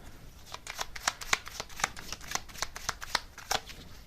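Tarot cards are riffled and shuffled close up in a rapid series of crisp papery flicks and snaps with uneven rhythm, heard alone without any talk.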